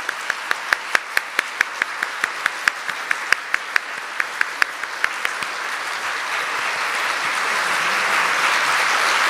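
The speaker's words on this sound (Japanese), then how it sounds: "今一度皆様大きな拍手をお送りください。" Audience applause closing an award installation ceremony for a shogi Kisei title holder, starting as sharp, separate rhythmic claps that swell into a dense, steady ovation filling the hall.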